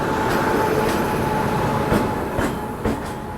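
An express train departs Vijayawada station, a steady rumble of carriages rolling past nearby with several sharp clicks from the wheels over rail joints and a faint constant tone, no voices.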